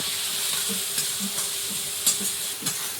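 A thick masala for a red egg curry fries and is stirred in a pan after Kashmiri chilli powder goes in, giving a soft continuous sizzle broken by regular scraping strokes of a spoon, close and with no talk.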